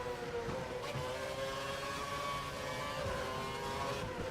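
A steady, droning Formula 1 engine whine from the game F1 World Championship at Melbourne holds throughout, with a slightly rough, wavering pitch from a faltering engine, and no talking.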